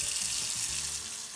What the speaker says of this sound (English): we have turned the water down so you can hear a little better